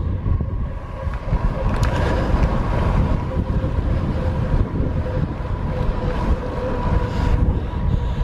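Strong headwind buffets the microphone of a cyclist out on the road, a constant, loud rumbling gust noise that fills the whole stretch with no voices over it.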